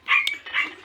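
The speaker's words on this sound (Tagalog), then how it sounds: "pasensya na kayo sa aso namin ha," A household dog, worked up at a cat, lets out two quick sharp barks in under a second, moderately close in an otherwise quiet room.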